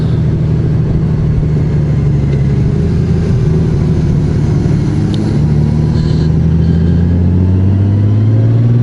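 A 2024 Honda Goldwing Bagger six-cylinder motorcycle engine with DCT gearbox, loud and close, pulling through a long smooth acceleration with rising engine tone and steady wind noise, no voices.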